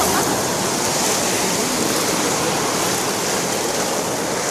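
Loud rushing river waves on the Katun, a dense, steady roar of churning water close to the microphone with no talk.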